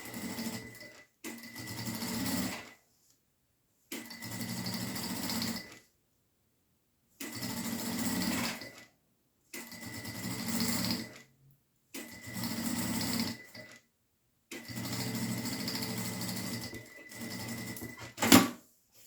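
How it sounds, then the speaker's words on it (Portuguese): Sewing machine stitching fabric for a triple pencil case, running in six or seven steady bursts of a few seconds each with short silent pauses between, close and with no talking. "Fez essa costurinha,"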